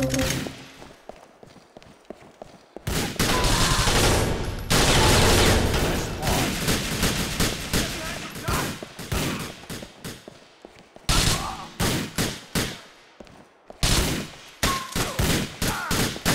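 Heavy gunfire aimed at the player in the video game GTA IV, long rattling bursts of automatic fire and rapid shots in repeated volleys, loud and close, with pauses between bursts and brief quieter moments.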